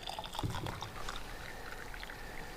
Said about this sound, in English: I'm just going to reactivate it with some boiling water